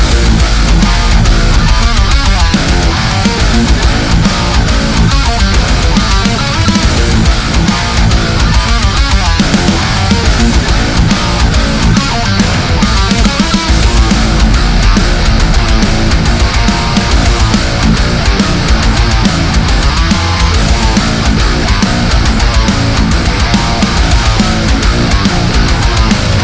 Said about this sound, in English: here's what the pedal sounds like in a full band mix